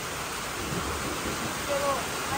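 Heavy rain pours down steadily in a dense, even hiss during a lunchtime downpour, with a low rumble of thunder faintly underneath.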